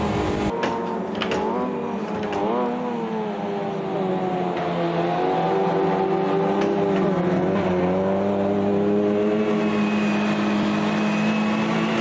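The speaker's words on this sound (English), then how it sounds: "It's all that slipstreaming though on this track with these little tiny cars." Tiny MINI race cars slipstream around Le Mans in the Automobilista 2 racing game, engines droning loudly and continuously with rising and falling revs as they run close together.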